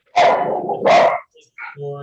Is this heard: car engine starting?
no